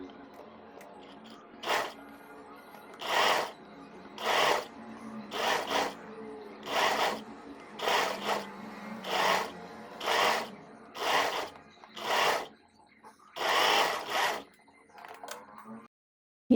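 Domestic sewing machine stitching a folded edge of kurti neckline fabric, running in a dozen short, evenly spaced bursts of whirring with brief pauses between, close and clear, no talk.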